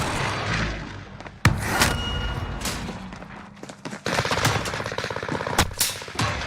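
Sniper and machine gun fire in a first-person shooter game, loud and close, with sharp single cracks over sustained rattling bursts and explosions amid battlefield noise.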